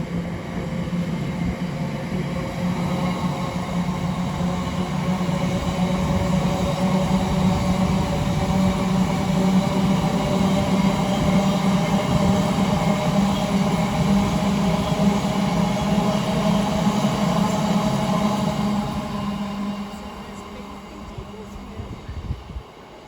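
A train rolls through Watford Junction on the West Coast Main Line, a loud continuous rumble with a droning hum and rail noise sustained for most of the stretch before easing off toward the end.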